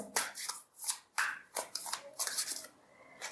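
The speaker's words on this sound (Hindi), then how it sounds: "we have lots of cards, we have to shuffle" Tarot cards being shuffled by hand in several quick bursts of crisp riffling and sliding, close and fairly loud, with short pauses between them.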